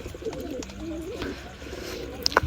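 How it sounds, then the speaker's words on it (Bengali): Mysore-breed pigeons coo softly nearby in a loft in Khulna, with low, throaty calls and faint rustling, and a brief sharper call near the end. "মহীশূর কবুতরগুলো আসলে অনেক ভালো বাজি করে এবং ভালো ফ্লাই করে।"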